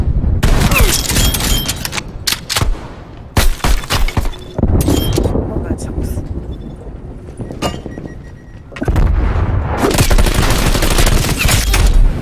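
Shotgun fire in Call of Duty Cold War: loud, close blasts in rapid clusters with short gaps, sharp cracks and debris rattle between bursts, no talking.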